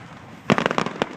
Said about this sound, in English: Grandma's taking the fireworks.